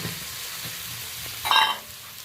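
Cut potatoes go into a hot pan of fried prawns, setting off a short, louder burst of sizzling over the steady stir-fry crackle before it settles back down.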